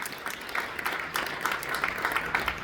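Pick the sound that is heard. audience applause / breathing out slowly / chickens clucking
audience applause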